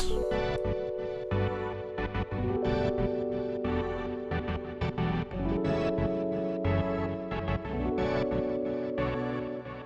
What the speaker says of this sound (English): So together the piano and those pads sound like this.